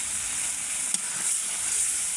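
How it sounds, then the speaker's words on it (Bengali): Cumin powder fries in hot oil in a pan with a continuous bright sizzle and one sharp tap partway through, steady and close with nobody speaking. "আমি কিন্তু এটা ভাজি করে নিচ্ছি।"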